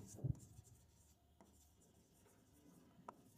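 A pen writes an explanation for an accounting journal entry, making soft, faint scratching strokes with a few light taps and rubs in a quiet room.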